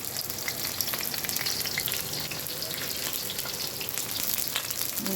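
Chopped ingredients sautéing in a pan for vegetable pulao, giving a loud, dense, continuous sizzle with faint stirring sounds underneath, close up and without talk.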